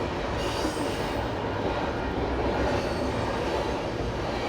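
Wheels on a loaded freight train squeak as the cars roll past, high squeals riding over a steady, close rumble of rail traffic with no talking.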